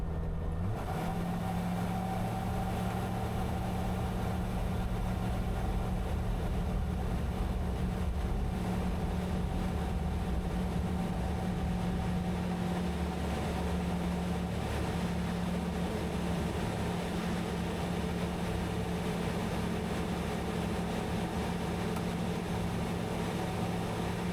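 A light aircraft's engine drones steadily and loudly throughout while lining up on the runway, a constant close hum with no breaks and no talking.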